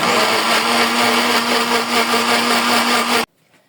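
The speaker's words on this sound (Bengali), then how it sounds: "এখানে এটা আমি এমনি ব্লেন্ডারে ব্লেন্ড করে নেব।" Electric blender puréeing a spinach paratha mixture, a loud steady motor whine with a constant hum running for over three seconds, then cutting off abruptly into near silence.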